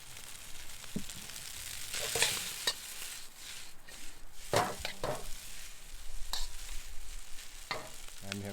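Pasta with Parmesan cheese cooking in a pan inside an RV kitchen, a soft steady sizzle broken by repeated scraping stirs and clinks of a utensil against the pan, close and fairly quiet, with no talking.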